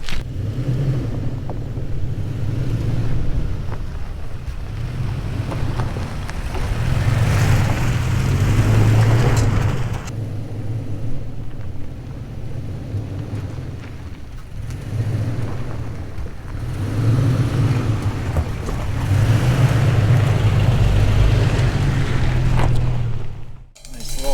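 A 2023 Toyota Tacoma TRD Off Road crawls over washed-out ruts, its engine a steady low rumble that swells and eases in waves, with faint creaks and knocks from the suspension working over the bumps.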